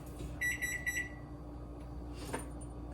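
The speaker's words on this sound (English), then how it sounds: "So timer's going off." A kitchen timer beeps in a quick burst of three or four faint, high pulses over low room noise while a banana cake bakes.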